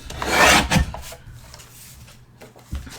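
Card paper is cut to size for a handmade birthday card, giving one loud rasping stroke up close near the start, then a quiet stretch and a soft thump at the end.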